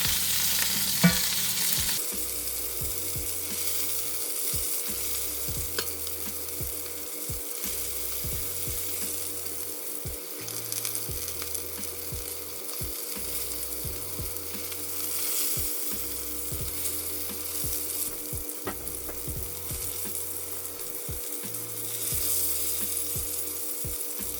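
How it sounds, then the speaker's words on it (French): A steak searing in a hot pan while pressed down with a press gives a loud, steady, close sizzle that continues throughout, with a few small clicks and no talking. "à l'aide d'une presse, je vais venir peser un peu sur le steak juste pour que la croûte elle se fasse uniformément"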